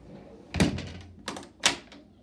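The lock on a very old sliding door clicks and clunks into place in a few sharp metallic snaps, close up in a quiet room.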